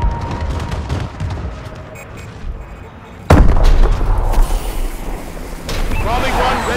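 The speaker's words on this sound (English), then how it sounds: "Friendly bombing run clearing the way." Explosions from an aerial bombing run in a first-person shooter match, a sudden heavy boom landing a little past three seconds into loud, continuous gunfire and rumbling battle noise.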